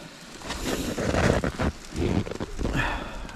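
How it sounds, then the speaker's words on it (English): Cold wind gusting at a snowy winter tent campsite in Newfoundland and Labrador, with a hot tent set up at -20C, rushing in uneven surges and buffeting close to the microphone. "The wind is blowing too."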